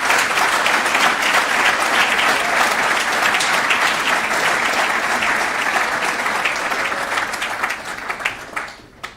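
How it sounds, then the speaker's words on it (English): Sustained audience applause for sponsors at a Safe Sports Social evening event, loud and dense crowd clapping that holds steady for most of the stretch, then thins into scattered final claps. "Round of applause for all of our sponsors."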